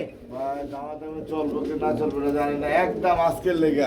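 Black nun pigeons coo close by in a loft full of pigeons for sale, with a steady run of soft, repeated coos over continuous talk.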